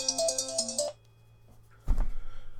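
A phone ringtone plays loud and close as a repeating bright electronic melody for just under a second, then cuts off; after a pause, a low rumbling noise follows.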